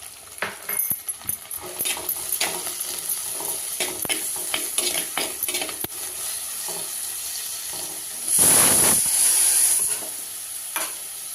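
Onions and tomatoes sauté in a pan with an ongoing close sizzle broken by scraping stir strokes, then a louder burst of hiss partway through.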